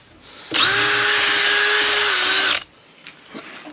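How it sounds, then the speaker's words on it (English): A power drill with a long bit whirs loudly for about two seconds at a steady high pitch while drilling out holes, then stops abruptly, followed by a few faint clicks and knocks. "Drilling out the centre of them holes."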